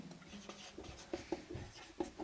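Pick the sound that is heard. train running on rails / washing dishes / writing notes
writing notes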